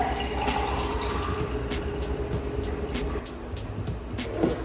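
Pineapple, orange and cantaloupe juice being poured into a glass, a steady liquid trickle with faint splashing and a few light clinks, close and moderately loud with no talking.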